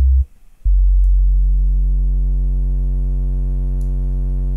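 A synthesized sub bass tone, heavily and quickly multiband compressed in Ableton Live, drones loud and steady after a brief dip, with a stack of harsh, buzzy aliasing harmonics layered above the deep fundamental.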